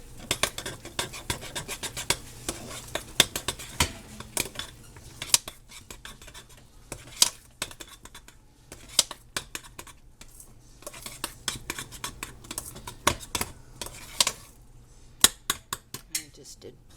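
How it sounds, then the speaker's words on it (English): A utensil stirs hot potatoes in a pot cooked in a sun oven, making repeated scraping clinks against the metal in an irregular rhythm, close and fairly quiet with a few sharper knocks. "Stir these taters."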